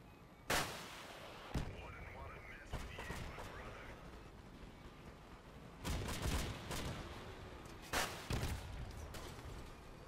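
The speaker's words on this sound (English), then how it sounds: "That's some fancy shooting, boys." Gunfire from vehicle weapons in the video game Crossout, with several sharp loud blasts spread through the clip over a steady background of game noise.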